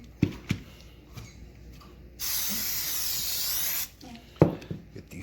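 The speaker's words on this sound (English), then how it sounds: "On both sides, just a nice little spray on both sides." A sustained hiss of marinade being sprayed onto turkey legs lasts about a second and a half, bracketed by soft clicks and handling noises nearby.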